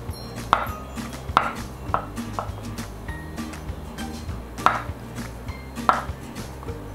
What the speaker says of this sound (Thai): ส่วนผมจะหั่นเป็นแว่นนี้